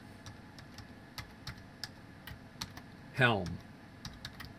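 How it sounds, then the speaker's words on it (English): Keystrokes on a computer keyboard while code is entered for a model compile file, a sparse run of light clicks spread through the clip with one louder burst, under faint background and a brief spoken word. "I'm going to type in here"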